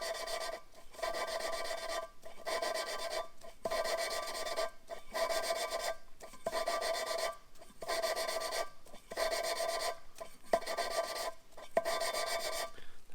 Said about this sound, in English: you actually pick it up, rotate the valve, set it back down, grind it in a new spot